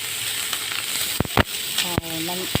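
Oil sizzles steadily in a hot pan, with a few sharp clicks and clatters of utensils near the end.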